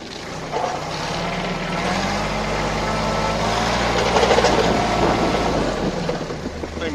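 A Kubota Aste A15 tractor fitted with a front linkage drives on snowy ground, its engine droning loud and steady close by, with a low throbbing hum that swells slightly midway.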